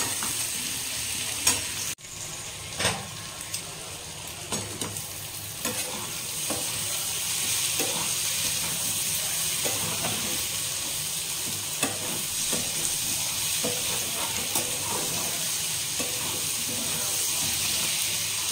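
Oil sizzles and hisses steadily as potatoes fry in a pan with green chillies, tomato and onion, with occasional clinks and scrapes of stirring throughout.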